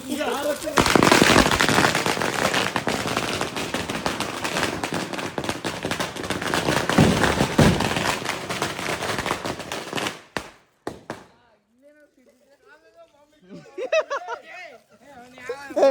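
Deepavali firecrackers burst in a loud, dense barrage of crackling pops and bangs for about ten seconds, then a few scattered late bangs follow as voices talk and shout nearby.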